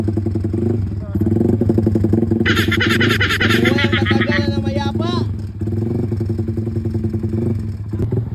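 Motorcycle engine idling after a new iridium spark plug and tuning with a CNC throttle, a steady close rumble with brief rev-like surges, mixed with loud voices and laughter.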